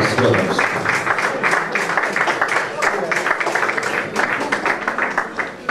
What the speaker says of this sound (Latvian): Aplausus, protams.